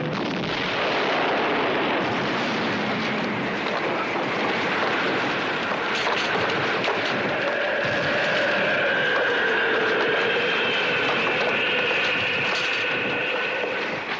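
Explosions rip across launch pads on a moon base in a science-fiction TV series, heard as a loud, continuous rumbling roar of blasts and debris with no speech.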